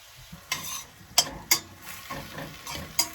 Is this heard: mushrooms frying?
yes